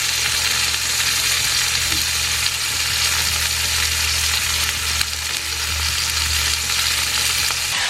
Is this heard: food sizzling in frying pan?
yes